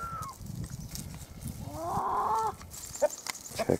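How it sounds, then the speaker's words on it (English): Chickens cluck and squawk nearby amid farmyard noise, with a drawn-out call from a big rooster in the middle, no talking. "I just thought we'd check out these chickens."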